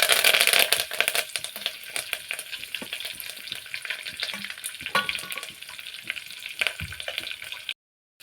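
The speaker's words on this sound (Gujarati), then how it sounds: "હવે આપણે લીમડાના પાન તેમાં એડ કરીશું" Curry leaves hitting hot oil in a pan while cooking potato rice, a strong crackling sizzle that spits loudly at first, then settles into steady frying with light stirring clinks before cutting off.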